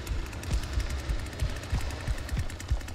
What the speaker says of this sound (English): I scare people with a chainsaw